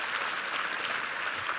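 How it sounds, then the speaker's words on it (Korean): A church congregation gives a dense, sustained round of applause for the drama and musical team at a Sunday service, with many hands clapping steadily and fairly loud throughout. "우리 힘찬 격려의 박수 한번 부탁합니다"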